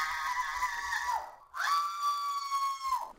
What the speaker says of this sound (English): She's just sitting there screaming like a crazy person.